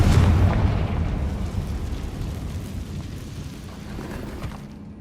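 The Confringo explosive spell going off in Hogwarts Legacy makes a loud, booming blast that starts with a heavy low-end hit and then rolls away in a long, rumbling decay.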